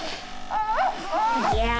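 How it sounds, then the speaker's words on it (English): A sick puppy makes soft high-pitched whimpers and little yips while sleeping, rising and falling squeaky noises close by, with a bit of background murmur. "He makes cute puppy sounds."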